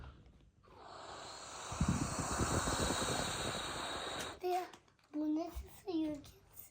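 A young child imitates a rocket engine with a long, breathy, roaring hiss lasting several seconds, then the child and an adult talk.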